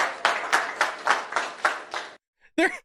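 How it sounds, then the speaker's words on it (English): An audience applauding in a political setting, a burst of loud clapping with rhythmic surges that stops abruptly, followed by a short voice. "They're clapping for it."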